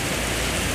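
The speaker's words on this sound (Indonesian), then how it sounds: "Sekarang kondisi lagi hujan." Steady rain falls in the evening near the Tugu Helikopter monument, a dense, even hiss of drops on surfaces with no pauses, filling the brief moment close and fairly loud.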